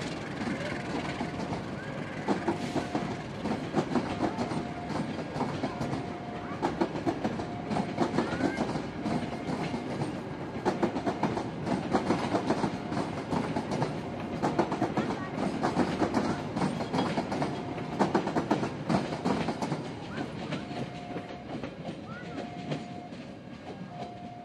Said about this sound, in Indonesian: itu dia KA Cikuray sudah diberangkatkan dari stasiun Nagreg ya